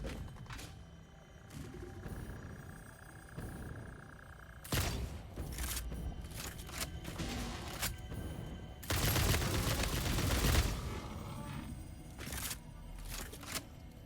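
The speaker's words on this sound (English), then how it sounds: "Homing rifle is amazing." Homing rifle shots in the video game Satisfactory fire in irregular bursts of sharp gunfire and thuds, some clustered rapidly, with a heavier volley near the middle, over quiet game ambience.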